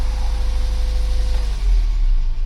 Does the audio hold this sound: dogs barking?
no